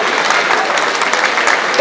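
A crowd gives steady applause to the podium finishers of a Montpellier athletics race, clapping evenly throughout and ending in a louder swell.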